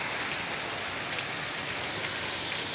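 Heavy thunderstorm rain pours down at Repulse Bay in an even, close, unbroken hiss of drops striking the ground, with no voices.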